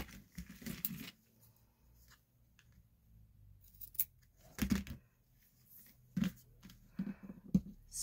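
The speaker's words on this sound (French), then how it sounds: "Et là, on vient couper le surplus." Scissors snip off excess paper or card from a handmade craft box in short, close bursts of cutting, spaced irregularly between quiet pauses, with no voices.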